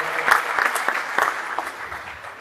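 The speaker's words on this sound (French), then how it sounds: "ça on peut l'applaudir" A crowd applauds, with a burst of crisp individual claps early on that gradually thins and fades.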